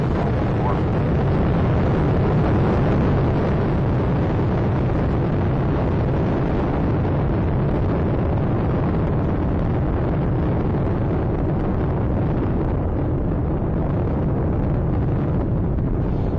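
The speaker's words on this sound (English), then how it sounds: "Atlantis on its way, all three engines now throttling down as the vehicle passes through the area of maximum dynamic pressure" Space Shuttle Atlantis engines thunder through liftoff, a dense, unbroken, loud roar that holds steady for the whole stretch with a rumbling low end; a faint voice may sit under it.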